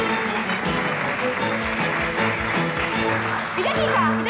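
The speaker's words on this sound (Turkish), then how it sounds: "Alkış." Office staff break into applause as a newlywed couple walks into the company, with steady clapping heard throughout under music and a few voices.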